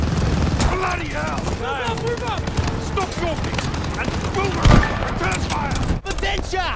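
Rapid bursts of gunfire from a Call of Duty: Vanguard battle crackle throughout, dense and overlapping, with shouted voices mixed in and one heavier boom partway through.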